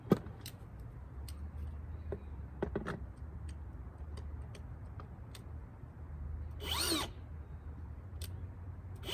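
A power drill drives bolts with a 7/16 socket while a cedar raised garden bed is assembled, heard as quiet, intermittent whirring bursts mixed with clicks and small metallic ticks, and a brief louder whir near the end.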